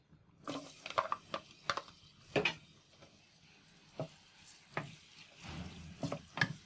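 Onion dropped into half a cup of hot oil in a pot, hissing and sputtering in bursts of crackles and stirring clatters, with quieter sizzling gaps between.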